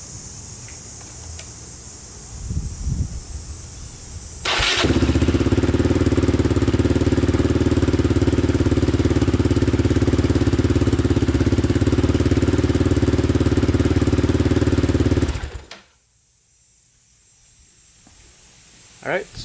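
A Yamaha Raptor 660 quad on a new battery fires up after some quiet handling noises, then runs with a loud, steady engine drone for about eleven seconds before it cuts off abruptly, leaving quiet background.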